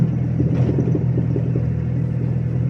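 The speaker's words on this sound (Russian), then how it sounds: "Тракторчик какой, а?" A tractor driving along a village road in rural Belarus, a steady low engine rumble that stays close and fairly loud for the whole moment.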